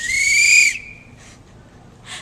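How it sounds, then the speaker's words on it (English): A loud, shrill whistle blast held for about three-quarters of a second, then cutting off, followed by two fainter short high bursts. "I have a whistle."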